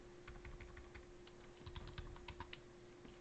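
Fast, light keystrokes on a computer keyboard, irregular bursts of tapping, fairly quiet and close, over a steady low electrical hum.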